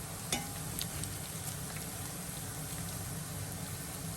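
Pork pieces fry with garlic in a hot pan, giving a steady, dense sizzle that holds the same level throughout, with one brief clink of a utensil near the start and no one talking.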